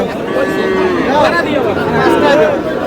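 Sahiwal bull calves low nearby amid a busy livestock market crowd, with several drawn-out moos rising over constant chatter and talking voices.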